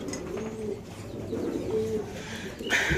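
A pair of pigeons at a pigeon sale coo softly in low, rolling murmurs, with a few overlapping calls and a brief rustle at the end.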